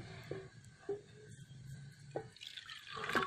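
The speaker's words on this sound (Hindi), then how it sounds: "दोबारा फिर पानी ऐड करता हूँ मैं" Water poured and dripping into a vessel holding mercury, with small splashes and drips, faint and close, trickling louder near the end.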